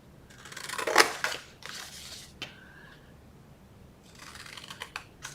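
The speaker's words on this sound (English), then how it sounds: "So go ahead and cut those out with scissors." Scissors cutting boxes out of a paper box template: a few crisp snips and crunching cuts, loudest near the start, then a quieter pause and more rustling cuts toward the end, close up.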